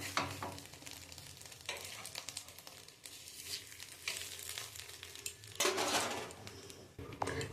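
Egg pitha sizzles steadily in a hot pan as it is flipped, with clattering of the utensil and scraping against the pan. A louder burst of frying comes partway through, and no one speaks.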